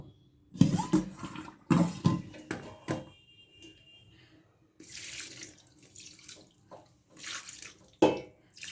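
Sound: rinsing chhena (cheese curds) with water

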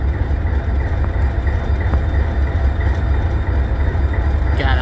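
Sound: SD40-2 diesel locomotive passing

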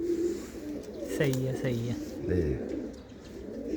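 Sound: pigeons cooing in a loft

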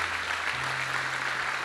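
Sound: church congregation hand clapping in praise

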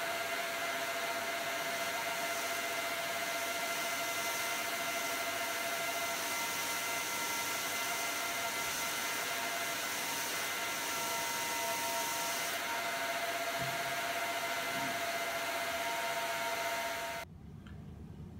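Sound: vacuum cleaner running with cyclone separator

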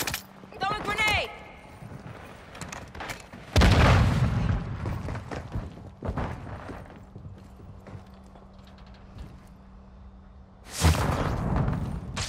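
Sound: grenade explosion in the video game Call of Duty: Modern Warfare II

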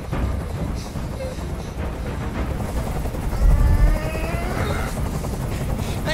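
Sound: helicopter noise

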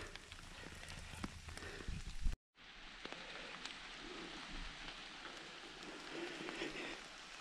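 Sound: rain falling in a Carpathian forest

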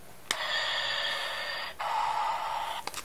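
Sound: Darth Vader mask toy breathing sound

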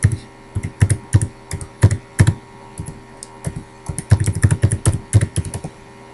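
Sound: typing login and password on a computer keyboard

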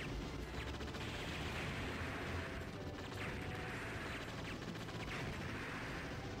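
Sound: gunfire in video game Metal Slug XX

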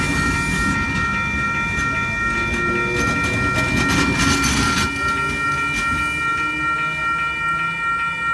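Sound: Oscar set train passing through Wondabyne Station

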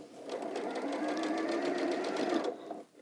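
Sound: sewing machine stitching patchwork quilt row

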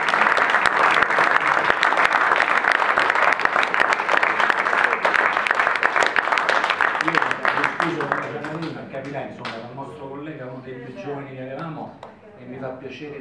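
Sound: applause dedicated to a late colleague

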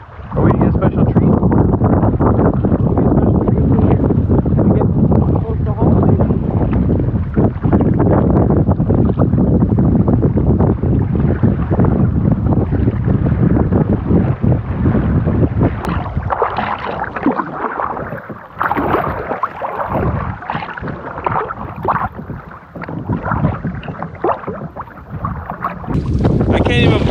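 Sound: strong wind blasting during canoe crossing

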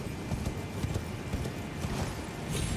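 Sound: horse hooves in Elden Ring video game

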